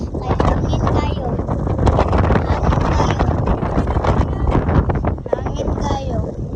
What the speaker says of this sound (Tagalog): Kay hangin kayo.